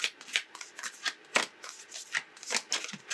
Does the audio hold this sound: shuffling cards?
yes